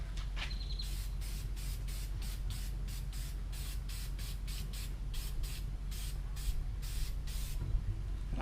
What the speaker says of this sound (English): I'm just coating this thing just like a spray can.